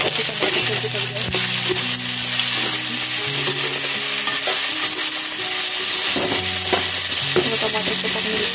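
Tomatoes salted in a pan for a Pahadi vegetable dish sizzle and fry steadily and loudly throughout, with occasional spoon stirring scrapes and no talking.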